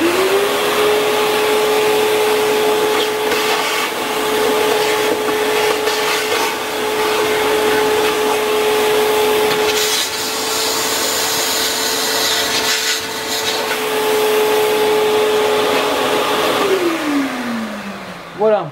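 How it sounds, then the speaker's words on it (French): A vacuum cleaner runs steadily for a long stretch, sucking debris out of the air filter box of a Peugeot 206 with a TU 1.1 engine, with a constant whine, rubbing and scraping sounds, then winds down at the end. "on va venir avec un aspirateur aspirer ce qu'il y a là-dedans."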